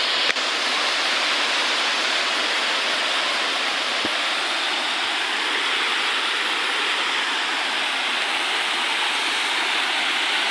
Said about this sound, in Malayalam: നല്ല രസമുള്ളൊരു വെള്ളച്ചാട്ടമാണ് കേട്ടോ അത്.